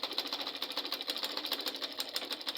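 A sewing machine stitches Ankara fabric in a fast, steady run of rhythmic mechanical pulses, close and continuous, with no talking.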